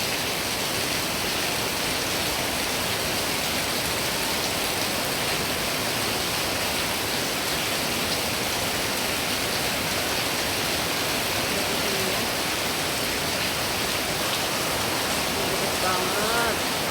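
Heavy rain pours steadily in early September, a dense, loud, unbroken hiss of downpour that fills the whole clip without pause.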